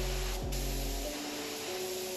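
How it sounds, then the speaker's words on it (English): A paint spray gun at low pressure, around 8 PSI, mists a blending agent over a paint blend, giving a soft, steady hiss that stays faint and even throughout with no talking. "You want to mist that blend in there."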